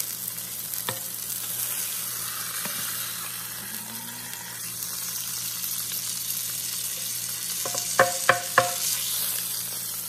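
A rump roast searing in a hot pan gives a steady close sizzle and hiss throughout, with a few sharp clicks from handling near the end.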